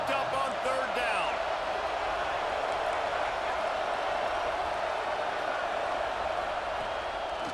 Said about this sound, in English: Crowd getting this defense whipped up on 3rd down.